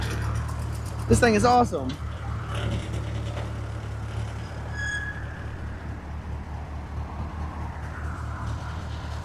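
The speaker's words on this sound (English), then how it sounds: "I'm getting the privilege to ride in a 48 Willys." A 1948 Willys rumbles steadily at close range throughout a ride, its low engine drone running continuously beneath excited talk.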